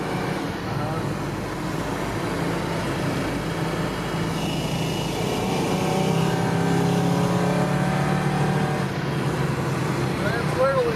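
A 1975 Chevy Luv engine drones steadily while driving, pitch rising as it accelerates, heard from inside the cab with people talking over the road noise.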